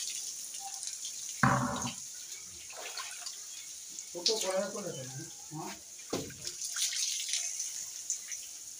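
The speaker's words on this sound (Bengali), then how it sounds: "দেখো কত বড় বালতি চাগিয়ে অভিজিৎ চান করছে।" Water from a big bucket splashes down in several separate bursts during a rooftop bath, mid-distance under a constant high hiss, with a voice chattering between the pours.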